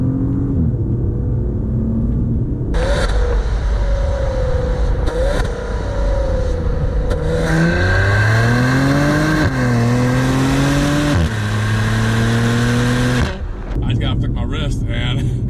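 A 2022 Maserati Levante GT engine revs and pulls under acceleration while driving, rising in pitch through several quick gear shifts, loud and close with steady road rumble and someone talking over it.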